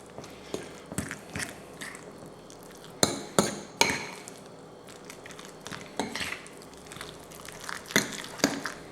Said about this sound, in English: And I'm going to give this a stir.